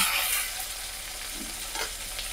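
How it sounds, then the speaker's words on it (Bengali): Chopped onions frying in a pan until golden brown, a steady sizzle with occasional soft scrapes of stirring, close and alone without voices. "এখানে আমার পেঁয়াজগুলো এখন খুব সুন্দর করে ভাজা হয়ে গেছে"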